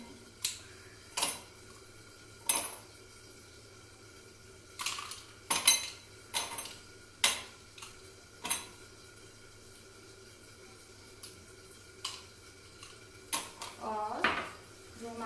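Ice cubes drop into a glass of beetroot buttermilk, giving a scattered series of sharp clinks and knocks spread over the clip, fairly close and moderately loud, with quiet pauses between them.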